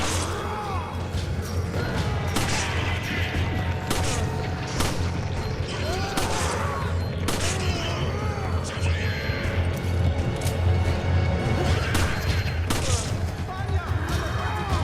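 Repeated gunshots and impacts in the video game Resident Evil 5 on PS3, scattered loud bangs over a steady game background while someone talks throughout.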